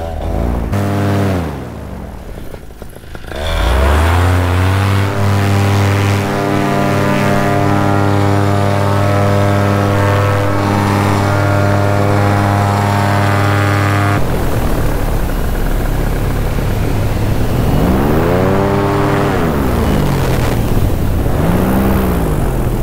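A Moster 185 paramotor engine roars loud and close during takeoff, holding a steady harmonic drone that falls off briefly, climbs back to full power and then rises and falls in pitch as the throttle shifts, with wind buffeting the microphone.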